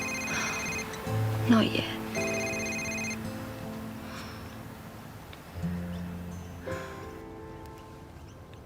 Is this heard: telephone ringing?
yes